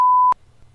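Censor beep: a single clean, steady electronic tone lasting about a third of a second, ending abruptly with a click, followed by near silence.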